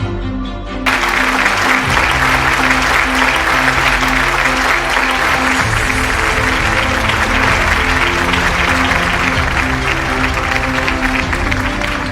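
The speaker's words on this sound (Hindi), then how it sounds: "जोरदार तालियों से स्वागत करें" Loud, sustained applause from a crowd fills an indoor awards ceremony at a rural Indian TV excellence awards event, rising quickly and holding steady throughout.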